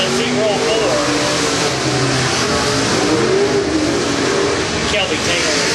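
Race cars in a pack roar as they pull away, a loud, dense engine wash building and surging for several seconds with a voice speaking over it.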